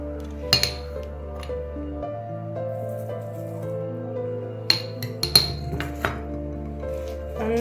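Prawn vada ingredients of ginger, green chilli, curry leaves, shallots and salt being mixed in a bowl, with several sharp clinks of utensil against the dish over a steady low background hum.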